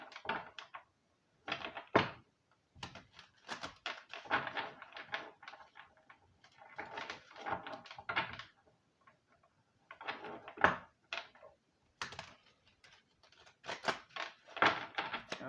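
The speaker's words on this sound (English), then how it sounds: "It's a tough deck to shuffle." An oracle card deck is shuffled by hand in irregular bursts of riffling, slapping and flicking card sounds, with brief pauses between the bursts. The sound is close and fairly quiet, and no one speaks.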